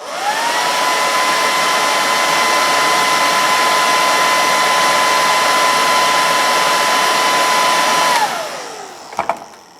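A handheld hair dryer blows steadily and loudly for about eight seconds, drying paint on the eyes of a carved Native American bust, then winds down and cuts off, followed by a couple of faint clicks.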